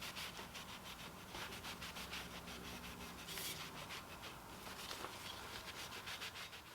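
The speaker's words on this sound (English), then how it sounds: "Soak down a little bit of a rag in this stuff, and then just scrub away at your windshield wiper" A rag soaked in cleaner scrubs a windshield wiper arm in quick, rhythmic back-and-forth rubbing strokes, close up and fairly quiet, with no talking.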